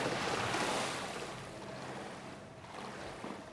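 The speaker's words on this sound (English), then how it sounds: "The water sounds are good though." Water in the game Satisfactory washes and swells in a broad, airy rush, loudest at the start and then easing into a softer, steady wash of surf-like noise with no voices.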